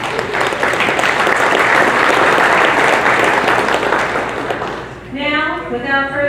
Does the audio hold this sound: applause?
yes